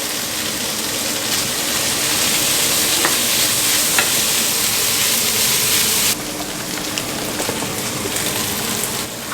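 Tofu sizzles loudly in a hot pan while being stir-fried, a steady dense hiss and crackle with occasional scraping stirs and no talk.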